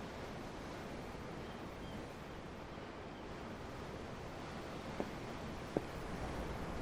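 Ocean waves in the video game Tales of Arise make a steady, broad wash of surf noise, even and moderately loud throughout, with two faint ticks near the end.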